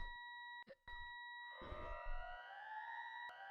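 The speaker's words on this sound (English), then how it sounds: "The ongoing siren masks the sound of shattering glass." An ongoing siren sounds in a sci-fi visual novel game: a steady, faint, layered electronic wail that slowly rises in pitch, interrupted by a couple of brief low thuds.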